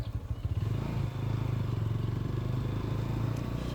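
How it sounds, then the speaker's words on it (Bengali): A motorcycle with missing rubber under its tank rides a badly broken road, its engine putting out a close, low, steady drone mixed with rapid rattling and clattering throughout. "আমার টাঙ্কির নিচে রাবার নাই বাইকটা খালি গের গের করতেছে"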